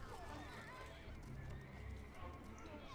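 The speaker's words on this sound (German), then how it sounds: "Mit unseren Pferdchen hier" Horses whinny and neigh among clip-clopping hooves in the strategy game Die Siedler 7, set against a steady game soundscape while someone talks over it.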